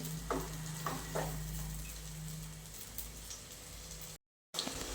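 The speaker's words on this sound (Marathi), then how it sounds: "आता छान असा रंग येईपर्यंत तेल सुटेपर्यंत याला आपण शिजवून घ्यायचं आहे कमी गॅसवरती शिजवायचं आहे" Chana masala paste cooks in oil over a low gas flame, a soft continuous sizzle with a few stirring scrapes and light ticks, quiet and close.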